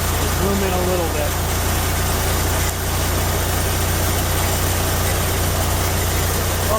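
A vintage RV engine idling steadily during a cold winter start-up, a constant low rumble and hum running throughout with someone speaking briefly near the start.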